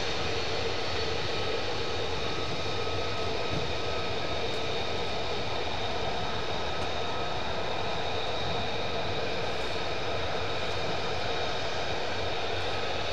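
Military jet engines idle at RAF Lakenheath, a steady loud whine and roar that holds evenly throughout with no break.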